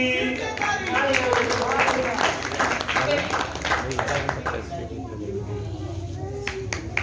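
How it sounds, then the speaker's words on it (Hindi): Hands clap together at a church Sunday school prize distribution in Batala, a steady, dense patter of many people applauding under overlapping voices and children's chatter that carries on throughout. "ताली"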